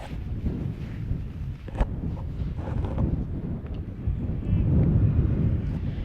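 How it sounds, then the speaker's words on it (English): Gusts buffet the microphone at an outdoor baseball game in Haysville, a steady rumbling roar of wind noise that swells toward the end, with no clear voices over it. "Windy day here in Haysville"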